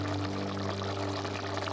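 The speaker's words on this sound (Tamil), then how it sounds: "தண்ணி சேர்த்துக்கலாம்." Water poured steadily into a pressure cooker for mutton biryani, a continuous close splashing rush without pauses.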